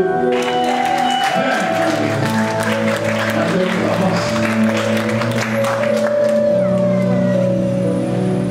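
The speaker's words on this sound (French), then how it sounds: "on acclame le Seigneur" Church congregation applauding and acclaiming the Lord, clapping and cheering steadily for several seconds over loud sustained music and voices.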